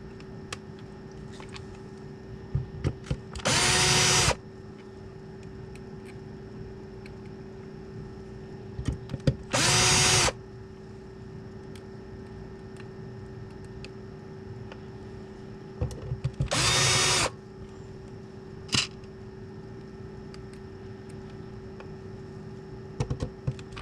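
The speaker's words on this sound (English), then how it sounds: "We put a couple of screws in here so that the covers won't fall off." A power drill drives screws into the covers of a radio in three short, loud bursts of about half a second each, separated by quieter stretches with a steady hum underneath.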